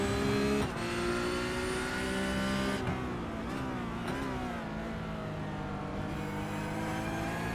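Onboard a Porsche Cup race car at Daytona International Speedway, the engine drones loudly and steadily at high revs, with brief dips and pitch shifts as the driver lifts and shifts, then holds again.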